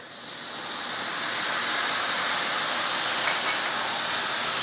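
Eight ounces of sliced baby bella mushrooms cook in a hot pan, giving a steady, loud broadband sizzle and hiss that swells over the first second and then holds evenly to the end, with no voices.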